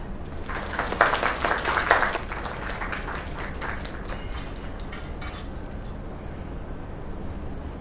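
Applause from a small group at a casual gathering, bursts of clapping that swell in the first two seconds and then thin out into scattered claps and faint murmuring.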